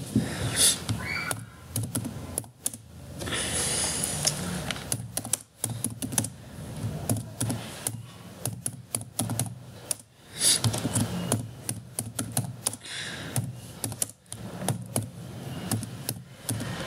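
Dense computer keyboard typing runs nearly throughout, with irregular clusters of key clicks and brief pauses while a quiz app is being coded, all fairly close with no talk.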